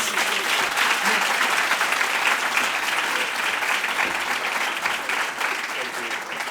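Conference audience at a Pan African Conference session breaking into a loud, steady round of applause that fills the hall and holds evenly throughout.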